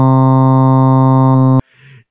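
A time-stretched sample for a Friday Night Funkin' chromatic scale holds one loud, buzzy, sustained tone for about 1.6 seconds, then stops abruptly, followed by a brief faint garbled sound.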